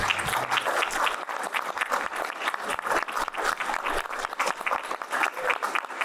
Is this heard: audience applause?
yes